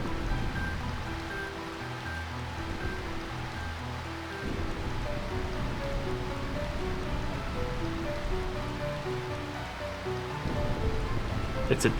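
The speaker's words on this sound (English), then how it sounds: "the volume meter in OBS moves very strangely with the rain sound effect" Continuous soft rain hiss from the Final Fantasy IX PC game fills the background at an even level, layered under ominous sustained musical tones, with a brief sharper sound right at the end.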